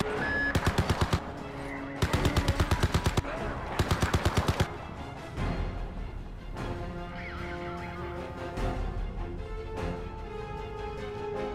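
Mounted turret gun in the shooter game Crysis 3 firing three loud, rapid bursts in quick succession, each about a second long, followed by rumbling battle ambience and music.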